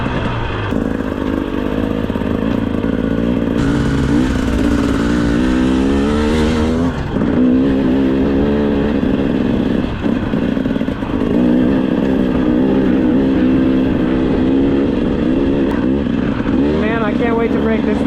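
A 2025 GasGas EC 300 two-stroke dirt bike engine runs steadily throughout, its tone rising and falling with throttle as the rider moves, loud and close with wind buffeting and no talk over it.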